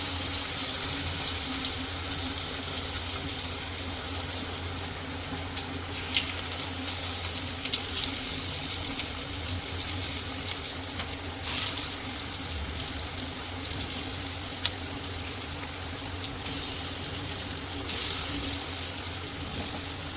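Stuffed bitter gourds frying in hot oil with asafoetida in a pan, a steady hiss and sizzle with crackling spikes as pieces settle in, continuous and close.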